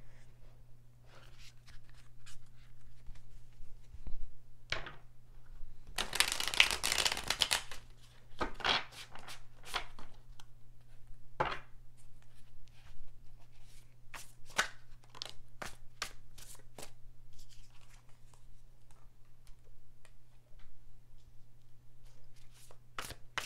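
Tarot cards are shuffled and handled in a quiet room, with a dense riffling burst near the start and scattered soft slaps, taps and flicks of cards afterward, close and over a steady low hum.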